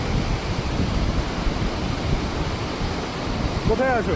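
Steady broadband rush of water pours at Lodh waterfalls in Jharkhand, the state's highest falls, a continuous close roar with faint wind across the microphone.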